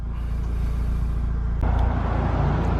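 A Mitsubishi Galant VR4 engine idles with a steady low rumble during coolant temperature sensor testing, then the tone shifts partway through as the engine note changes, continuous and close.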